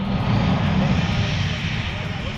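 An F-35B fighter jet engine roars loudly and steadily during the conversion to short-takeoff vertical-landing mode, a dense broadband rumble with a strong low-frequency core, close and continuous throughout.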